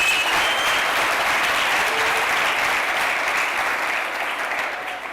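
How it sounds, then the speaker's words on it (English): Guests at a university fundraising gala dinner applaud, a full sustained wash of many hands clapping that holds steady and then begins to fade. "Let's give her a round of applause."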